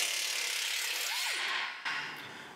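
An air impact wrench on the bolt of a Ford F-series front strut spring assembly, a brief hissing, rattling run that cuts off abruptly and then gives a short second burst, heard up close.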